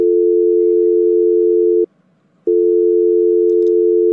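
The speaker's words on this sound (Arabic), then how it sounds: "ضربي لي النمره لخالتك الزاهيه" Telephone tone heard while dialing a number: a loud, steady, close hum that cuts out for about half a second and then resumes unchanged. No speech.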